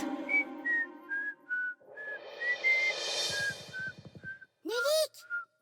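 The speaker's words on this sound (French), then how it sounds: "Je siffle un morceau." A clear, close whistled tune of short held notes rises and falls in a simple melody, with soft background music and a brief swooping tone near the end.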